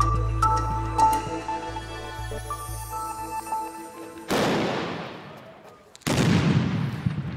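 Two loud, sharp fireworks bangs a couple of seconds apart, each rolling into a long booming echo, following a stretch of murmuring background noise.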